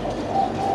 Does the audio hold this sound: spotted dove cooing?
yes